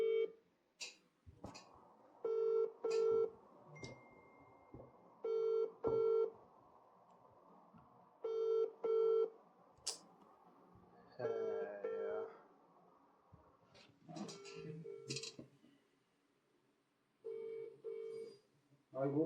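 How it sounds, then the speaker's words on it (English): Phone on loudspeaker calling out, with repeated paired ringback tones in regular bursts and some beeps, interrupted by people talking nearby. "I'll call Suzuki first."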